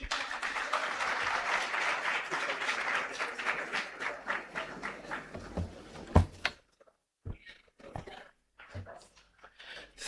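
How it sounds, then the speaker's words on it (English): Audience applause at a provincial matric results announcement, sustained clapping from a large crowd that tapers off around six seconds, followed by quieter shuffling and faint talk. "A round of applause please."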